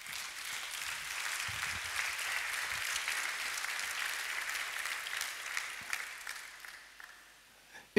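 A church congregation applauds during a Sunday service, a steady, fairly distant wash of clapping that keeps going for several seconds and then tapers off.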